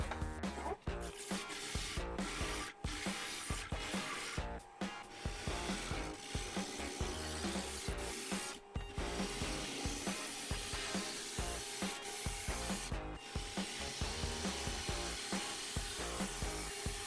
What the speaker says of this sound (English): I'll be turning this at 1000 RPM with my 3/8 inch bowl gouge.